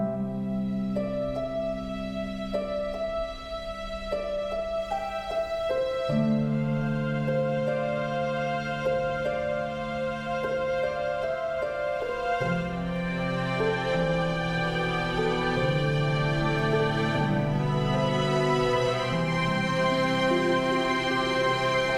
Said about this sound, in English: And with the harp and the strings already written,